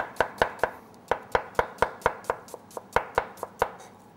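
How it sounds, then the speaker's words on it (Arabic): A knife chops onion thinly on a board for a purslane salad, giving about seventeen crisp, close knocks in a quick, fairly steady rhythm with short pauses, and no voices. "ناخذ الشقفة هاي، نضعها ونفرم نعمة جوانح هيك رقيقة"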